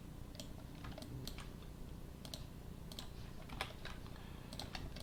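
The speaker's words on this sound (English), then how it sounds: "hitting 3 on the keyboard" Keys on a computer keyboard click in a quick typing pattern: sharp, light taps in small clusters, soft and close, over a faint low background hum with no talking.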